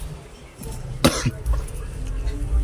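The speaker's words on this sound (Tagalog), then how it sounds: "Inuubo pa rin ako mga idol." A single loud cough from a man in a Filipino DIY setting, sharp and close, followed by a short second hack over low background noise.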